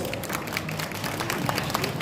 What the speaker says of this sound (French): Applaudissements s'il vous plaît pour Ross.